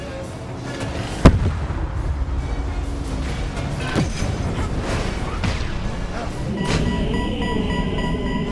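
Rapid-fire weapon shots in the kart-style racing game Cars 3: Driven to Win: one sharp loud blast followed by a dense crackling barrage of pops and bangs over racing noise.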